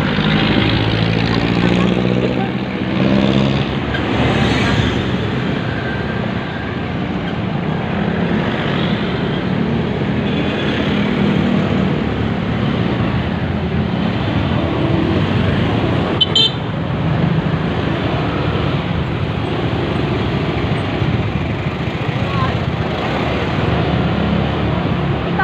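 Steady roar of congested city road traffic heard from inside a car on a drive in the Philippines, with occasional short horn toots, engine and road noise throughout and voices talking.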